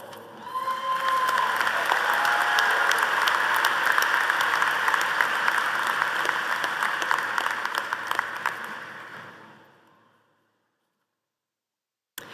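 Dense, sustained audience applause fills a university commencement ceremony for several seconds, then fades away into silence.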